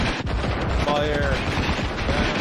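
Sustained gunfire from Far Cry 5 rattles as a dense, continuous volley throughout, loud and close, with game voices faintly beneath.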